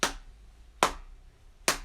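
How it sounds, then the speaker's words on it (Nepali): Three sharp hand claps spaced evenly in a steady beat, each crisp and close with a short decay, alone in a quiet room. "जस्तै मैले ताली बजाएँ नि"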